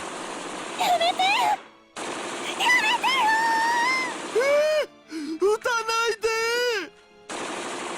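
Gunfire in the Steins;Gate visual novel video game comes as rapid bursts of automatic shots, broken by brief pauses and mixed with shrill, tonal screams and cries between the volleys.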